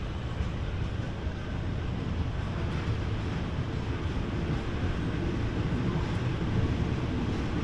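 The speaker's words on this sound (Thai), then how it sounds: "ตอนนี้นี่รถไฟนี่ก็ ได้รับสัญญาณครับ ออกจากสถานีชุมทางตลิ่งชันเป็นที่เรียบร้อยนะฮะ" Ordinary train 259 pulls out of Taling Chan Junction station in Thailand, heard from on board as a steady, loud broadband rumble and roar of the moving carriages, continuous throughout with no pauses.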